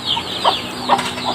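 Domestic chickens cluck on a provincial farm in short, close, repeated calls over a steady outdoor background hum.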